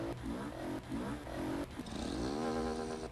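Motorcycle engine in an online motorcycle video game, revving repeatedly with a rev-limiter cut, a series of short rising bursts then one long climbing whine, moderately loud and alone.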